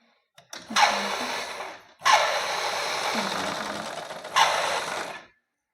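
A sewing machine stitches a blouse in three bursts of rapid, even whirring with short pauses between them, close up, with a voice talking briefly.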